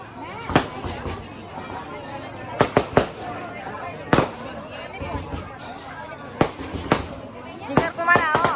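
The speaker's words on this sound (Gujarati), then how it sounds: "ફટાકડા ફૂટી રહ્યા છે." Firecrackers bursting at a wedding celebration, sharp loud cracks arriving in quick clusters of two or three across the stretch, over a busy background of crowd chatter and voices.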